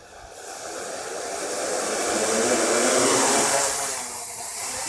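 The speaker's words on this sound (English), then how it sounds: "Make sure the motors have got power, and they do." An F750 Arducopter 2.5 quadcopter's electric motors and propellers spin up into a steady whining hiss, swelling louder through the middle as the craft lifts, then easing back slightly, close and unaccompanied by talk.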